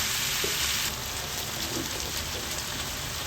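Garlic, onion and chicken fry together in a pan for mechado, giving a steady, close hiss and crackle that stays even throughout, with a few soft clinks of stirring and no talk.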